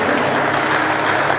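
A church congregation breaks into loud, sustained cheering and clapping, a dense continuous wash of applause with no pauses.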